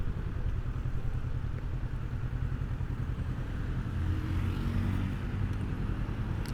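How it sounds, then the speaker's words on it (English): A Honda NX500 motorcycle engine runs with a low, rumbling exhaust note, steady and close, pulsing evenly throughout without any voices. "it's a good exhaust note."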